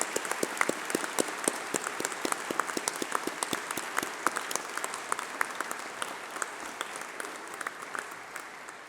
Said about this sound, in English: let's have a round of applause for all those special people, your family, your friends, and your tutors